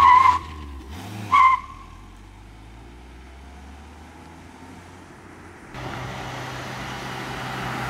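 A car being put through a test squeals its tires in two sharp skidding bursts near the start, then settles into a steady low engine and road rumble that grows slightly louder toward the end.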